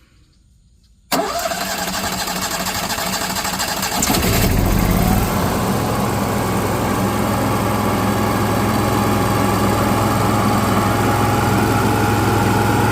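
A Giraffe Tools gas pressure washer engine cranks briefly after a second of near-silence, then catches and settles into a loud, steady running drone with no talking.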